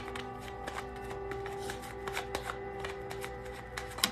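Tarot cards being shuffled to draw a single card, a quick riffle of soft papery flicks and slaps, close and fairly quiet, running steadily with small taps.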